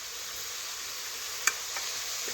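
Fried potatoes tipped into ridge gourd cooking in a pan, giving a steady close hiss of frying with one sharp clink near the middle and a few faint stirring taps.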